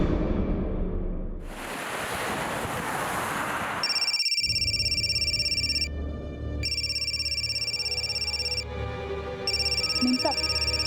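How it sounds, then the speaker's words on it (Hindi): A mobile phone rings with a repeating electronic tone, loud and close, in steady pulses broken by short gaps, following a burst of rushing noise at the start. "साहब, आपका फोन बहुत बज रहा है।"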